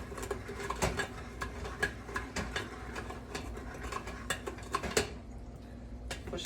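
Cooked russet potatoes with butter and cream pressed through a hand-cranked food mill, a steady run of soft metallic ticks and rasps at close range.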